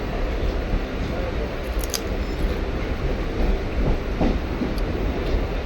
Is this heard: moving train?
yes